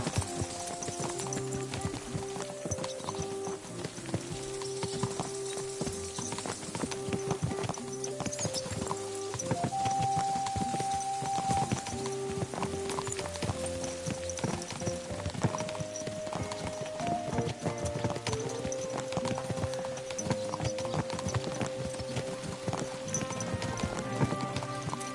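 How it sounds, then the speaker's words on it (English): Horse hooves clip-clop steadily in a riding scene from a video game, a continuous rhythmic trot under a dense bed of game music, with an occasional faint whinny. "Is this your first time riding a horse?"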